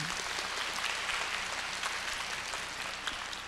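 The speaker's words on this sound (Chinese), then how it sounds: "鼓掌" An audience at a Melbourne gathering claps in a dense, steady wash of applause that holds at an even level from start to finish.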